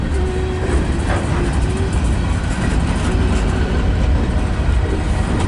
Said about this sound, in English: This train's going slow